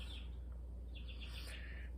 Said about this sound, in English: You can probably hear the chirping.